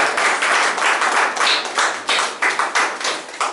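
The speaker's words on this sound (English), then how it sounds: "Let us clap." A church congregation claps hands together, a brisk, close burst of many overlapping claps that swells in rhythmic pulses and tapers toward the end, with no talking over it.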